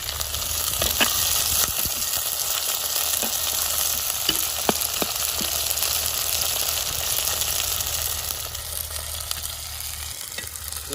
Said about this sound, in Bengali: পেঁয়াজগুলোকে ভালো করে ভেজে নিতে হবে।